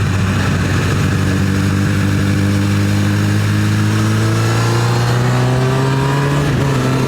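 A Honda CB1000R motorcycle engine on the road in the Eifel, a loud, steady droning hum with rising tones as it pulls through the gears, wind noise rushing alongside.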